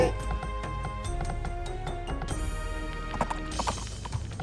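Horse archers' hooves clip-clop in a steady rhythm in the video game Age of Empires, with a brief whinny and game music and effects layered around the clear, close hoofbeats.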